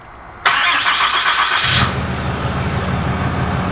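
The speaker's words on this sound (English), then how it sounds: "Hear that beautiful diesel engine come to life." A 2019 Ram 2500 diesel pickup fired up by remote start: a sharp crank and catch, a brief louder burst, then a settled low diesel idle rumbling steadily close by.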